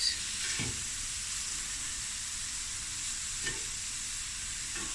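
Shrimp sear in a hot pan for shrimp Alfredo, giving a steady, even sizzle with a couple of faint scraping stirs and no talk.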